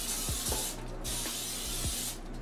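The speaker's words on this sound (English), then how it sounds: "So you're going to spray the bottom" Butter flavored cooking spray hisses onto the bottom of an air fryer oven pan in two long, loud, close bursts separated by a brief pause, with light knocks and no talk.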